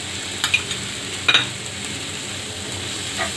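Chopped tomatoes with salt frying in a pan for egg masala, giving a steady loud sizzle with a few brief scraping stirs near the start.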